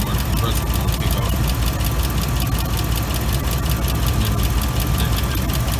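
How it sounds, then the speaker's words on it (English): 2005 Ford F150 engine idling with its air-conditioning compressor engaged, a loud, steady, close-up mechanical drone with a fast ticking pulse and no break across the whole stretch. "Right down in through here somewhere, the compressor's going to kick off."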